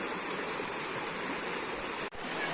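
Steady rushing floodwater flows continuously across farm fields, a broad roar with no pauses, loud and close throughout.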